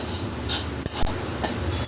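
Gongura leaves are sautéed in a pan over high flame for an Andhra-style chicken biryani, a steady low sizzle with a few sharp clinks of a spoon against the pan.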